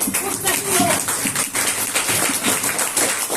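An audience at a Hindi religious narration gathering claps loudly in a dense, continuous patter of many hands, close and steady throughout.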